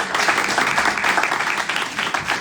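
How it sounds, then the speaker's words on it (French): A crowd at an evening gathering applauds loudly and continuously, a dense, even clatter of many hands filling the whole short stretch. "je voudrais qu'on applaudisse très fort"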